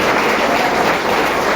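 A church congregation applauds in worship, a loud, dense and continuous roar of many hands clapping close by, with no speech over it.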